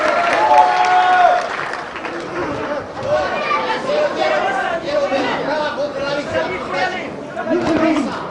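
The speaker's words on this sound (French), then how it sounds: "Allez, quelques applaudissements quand même." A boxing-match crowd gives scattered applause mixed with loud chatter and hubbub, a dense, steady wash of clapping and voices that carries on throughout.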